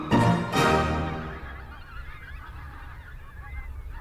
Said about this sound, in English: So the birds are out there